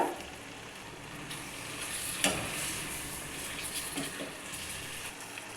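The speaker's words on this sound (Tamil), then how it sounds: "தயிர் சேர்த்து கிண்டு விட்டுக்கோங்க" Curd is stirred into a pan of avial vegetable kootu, producing a steady soft sizzle with faint scraping of a spoon against the vessel, close and continuous without any talk.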